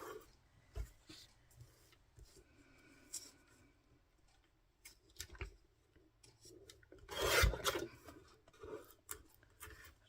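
Scissors trim a paper tag at a crafting desk, making faint, scattered snipping and rubbing sounds, with one louder, longer cut near the end.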